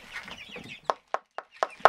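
Chicks from a backyard flock cluck in a short run of five sharp, evenly spaced calls, close and clear, after a softer patch of chirping at the start.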